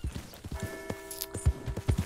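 Horse hooves clip-clop at a steady walking pace in Red Dead Redemption 2, with crisp close knocks and a faint tonal hum of game ambience underneath.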